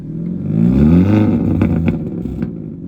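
A 2023 Hyundai Elantra N's variable valve exhaust burbles and rumbles at idle and light throttle, a low throaty warble with a few sharp pops near the end.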